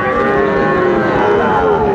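A Friesian or cross-bred bull calf at the Raniganj cattle market gives a loud, sustained moo, close by and dominating the brief moment.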